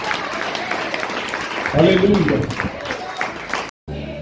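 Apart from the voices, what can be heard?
church congregation applause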